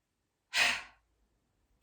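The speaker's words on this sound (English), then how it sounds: "there's a big exhalation through the mouth." A single big exhalation through the mouth during chair yoga, a breath of joy: one loud, airy rush of breath that fades out within half a second, followed by silence and the start of another breath.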